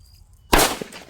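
A single Kannan Sivakasi firecracker bursts with one sharp, loud crack out of near-quiet, followed by a smaller secondary pop as the blast decays.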